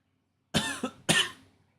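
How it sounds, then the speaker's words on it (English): Two harsh, violent coughs from a sick person, close and loud, the first bursting with a short follow-on hack before a second heavy cough, then quiet. "Here's hoping that nobody joins in on the sounds of me violently coughing"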